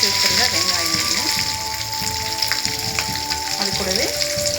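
Chopped onions sizzling in hot oil for a Tamil-style seeralam curry, a steady close frying hiss with small crackles and occasional stirring, and a faint voice now and then.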